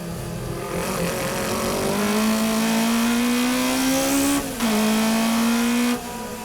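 Toyota AE86 Hachi-Roku race cars lapping Tsukuba circuit during an N2 race, engines droning loud and close with a steady rising pitch, a brief dip as one shifts, then the howl continues under the pack.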